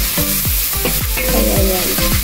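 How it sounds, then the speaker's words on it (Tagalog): Meat sizzles and toasts in a hot pan for ginisang monggo, a loud close crackle broken by repeated scraping stirs of a utensil against the pan in a quick irregular rhythm. "gusto kong medyo toast yung karne guys"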